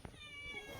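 A short meow from a cat in the Minecraft video game, a single drawn-out tonal call, fairly quiet, playing alongside faint game sounds.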